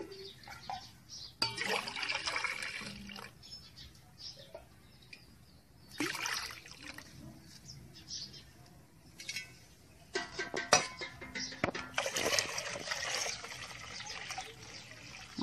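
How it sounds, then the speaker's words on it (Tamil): Water poured from a cup into a heavy-bottomed cooking pot in a home kitchen, heard as several separate splashing, trickling bursts at close range with quiet gaps between them and no voices. "இப்போ இந்த கிண்ணத்தால் 1 கிண்ணம் தண்ணி ஊற்ற போகிறேங்க"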